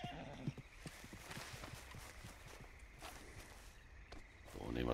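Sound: horse in video game Red Dead Redemption 2 Online

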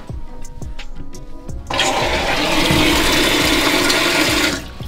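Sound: Japanese bidet toilet spraying water

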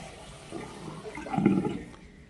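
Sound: water draining from washbasin via one-touch pop-up drain

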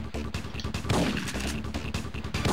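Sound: gunshots in a video game

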